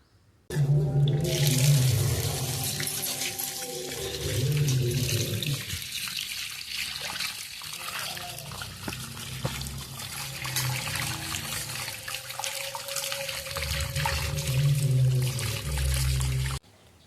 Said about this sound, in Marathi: हे एवढं आलं निघाले आणि आता हे मी धुवून घेणार आहे.